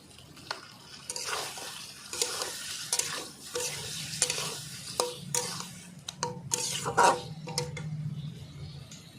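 Boiled taro and rui fish curry is stirred and sautéed in a pan, with spoon scrapes and clinks against the metal in irregular strokes over a low continuous sizzle.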